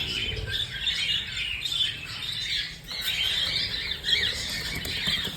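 Emerald doves at their nest give a continuous stream of thin, high squeaky calls, fairly faint and unbroken, with a soft background hiss.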